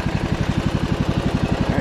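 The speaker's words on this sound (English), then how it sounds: "Revs out. Idle smooth." Scotts 15/42 lawn tractor engine idling close up, a steady, even low chug with regular firing pulses that never change pace, with no other sound.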